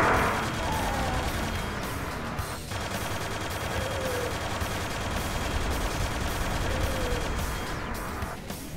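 Quake II's Goliath super tank firing its chain gun and rockets in the video game: a loud, continuous barrage of rapid gunfire and blasts that runs without pause for the whole stretch.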